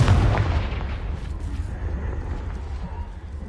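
A Confringo fire spell explosion in the video game Hogwarts Legacy: one deep booming blast at the start that rumbles and decays over the next few seconds.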